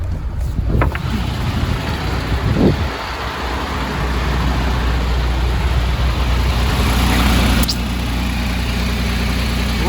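A warmed-up car engine idles steadily during an oil pressure test in a workshop, a loud, even low rumble with a few brief clicks and handling noises.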